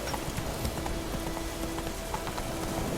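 A horse gallops in The Witcher 3, its hooves pounding out a rapid, continuous clip-clop rhythm that stays loud and close against a steady game background, with no talk.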